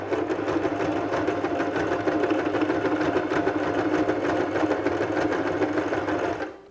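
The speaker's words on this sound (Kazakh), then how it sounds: "Машинкамен біз мына жерде абайлап бастырамыз." A sewing machine stitches through fabric while a Kazakh amulet pouch is made, running in a steady, continuous whir close by for several seconds before stopping abruptly at the end, with no talking.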